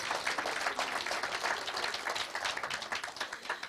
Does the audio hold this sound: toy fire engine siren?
no